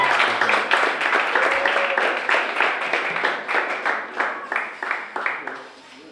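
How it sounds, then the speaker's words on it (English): An audience at a media fellowship exhibition gives a round of applause for a fellow, steady clapping from many hands that slowly fades toward the end. "A round of applause for Diola."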